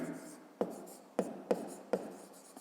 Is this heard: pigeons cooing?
no